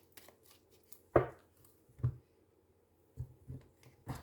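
A deck of tarot cards is cut and handled, giving a few soft, close papery slaps and shuffles spaced across a quiet room.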